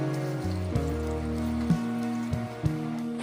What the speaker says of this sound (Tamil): இப்போ இந்த நண்டு மசாலாவுக்கு தேவையான தண்ணி சேர்த்துக்கிடுவோம்